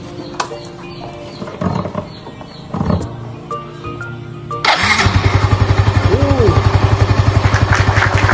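A Yamaha Mio M3 scooter engine is started after an oil change: a brief crank catches into a loud, close, steady idle with a rapid regular pulse, preceded by some clatter and handling noises.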